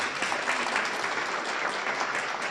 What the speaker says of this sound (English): So can we get a round of applause for their time?